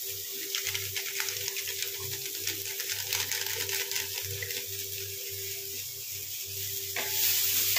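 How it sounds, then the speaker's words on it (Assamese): Spinach (palak) being stirred with spices in a hot pan, a steady close sizzle with soft repeated scraping strokes of the spoon throughout, growing slightly louder near the end. "আৰু ইফালে মই লাৰি দিলোঁ ভালকৈ"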